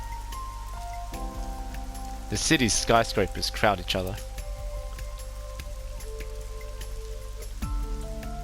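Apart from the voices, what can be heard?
rain in a video game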